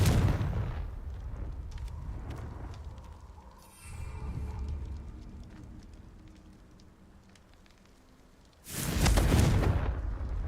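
Spells such as Incendio and Confringo cast in Hogwarts Legacy, heard as crackling, fiery bursts across the clip, with one loud blast near the end.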